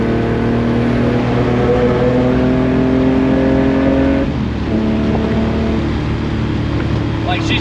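Engine of a cheap $400 drift car with a newly fitted PMC short shifter, a loud steady drone heard from inside the cabin while driving, with a brief dip as if shifting gears, then the drone resumes.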